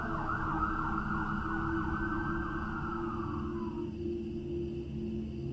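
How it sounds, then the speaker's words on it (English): A wailing siren sweeps up and down steadily, then fades out near the end, over a constant low road rumble. "Now I hear the sirens"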